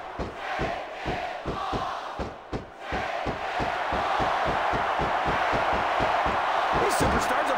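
A wrestling arena crowd in the SmackDown vs Raw 2006 video game roars in a loud, continuous wash, punctuated by rapid rhythmic thuds from the ring, with commentary voices mixed underneath.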